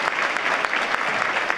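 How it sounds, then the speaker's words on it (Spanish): Audience applause closing a panel on personal data protection in Puebla: dense, steady clapping from a crowd holding at an even level throughout, with no voices above it. "Sean generosos con este aplauso"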